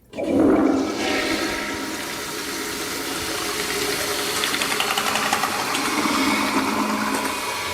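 Toilet flushing in a video game: a sharp burst of gushing water at the start settles into a steady churning rush and refill that runs on loud and close, with no talking.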